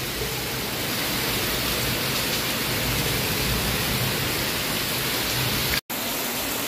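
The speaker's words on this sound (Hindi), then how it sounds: "अभी भी बारिश कितना ज़ोर से हो रहा है।" Heavy rain from Cyclone Yaas in Kolkata, West Bengal pours steadily, a dense continuous hiss of water drumming on surfaces, close and loud, with no voices.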